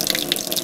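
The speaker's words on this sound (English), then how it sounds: "just pour out all the excess water" A short, close splash of excess water poured out of a tipped container of fermenting chicken feed.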